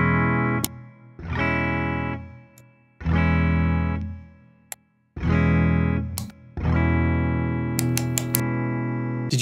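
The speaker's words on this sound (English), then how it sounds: "so it's just different tones as you turn it" Distorted chords on a B.C. Rich Mockingbird Legacy ST electric guitar ring out in separate strums, each with a slightly different tone as a toggle switch changes, separated by brief pauses and sharp clicks.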